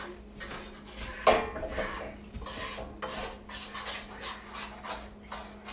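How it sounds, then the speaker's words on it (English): A utensil scrapes crumbs in a pan while gravy is made, rough rasping strokes repeated in an uneven rhythm, close and moderately quiet, with occasional clinks of metal. "So I'm scraping it like this to get it all the crumbs into it."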